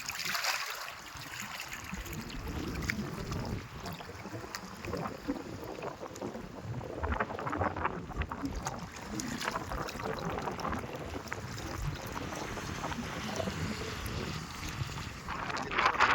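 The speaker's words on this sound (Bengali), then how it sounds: "কীভাবে ঢেউ চলছে।" Waves and a strong current move through floodwater as a constant low rushing and churning, fairly faint and steady, with occasional voices in the background.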